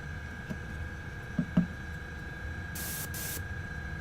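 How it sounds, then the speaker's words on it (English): A paint airbrush used on Warhammer 40k Centurion miniatures gives two short, bright hissing spurts of spray over a steady low hum, with a few faint clicks before them. "the airbrush is kicked on though"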